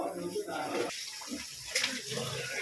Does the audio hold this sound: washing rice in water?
yes